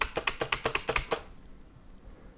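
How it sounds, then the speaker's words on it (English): Spacebar on a membrane gaming keyboard pressed repeatedly, about ten quick, crisp clacks in a steady rhythm, close and clear, then falling silent. "Now, I'm going to press the spacebar a couple of times."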